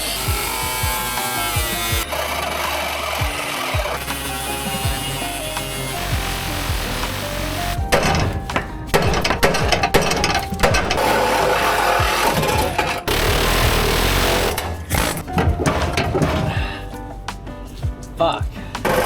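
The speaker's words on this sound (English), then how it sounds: "So I'm gonna grind those welds off and then pop this muffler off." A power grinder whines and grinds off metal exhaust welds on an Audi TT in bursts, its pitch rising and falling, with clattering and a voice heard in between.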